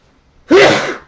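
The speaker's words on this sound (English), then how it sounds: "Had to sneeze there." A single loud sneeze bursts out after a moment of near silence, sharp at the start and trailing off over about half a second.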